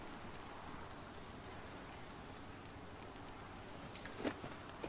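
Steady broadband rain falls throughout in the survival video game The Flame in the Flood, a constant hiss with a brief louder burst near the end and no voices.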